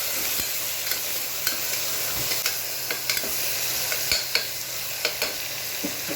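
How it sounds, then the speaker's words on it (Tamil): Vegetables sauté with salt for capsicum biryani while a spoon stirs them, a steady close sizzle broken by scattered, irregular scrapes and taps of the utensil on the pan. "உப்பு போட்டு நல்லா கிண்டி விடுங்க"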